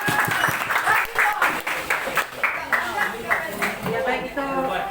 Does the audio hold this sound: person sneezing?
no